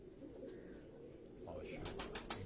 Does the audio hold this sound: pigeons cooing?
yes